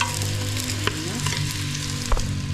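Spices sizzle and fry steadily in a pot while being stirred for Tlemcen harira, a constant close crackle with a few soft scraping knocks of the spoon.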